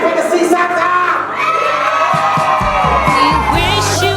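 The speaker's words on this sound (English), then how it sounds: "he needs a big, louder scream than that for Santa" A crowd of children at an outdoor Christmas picnic in Auckland screams, whoops and cheers loudly and continuously for Santa, with adult voices mixed into the noise.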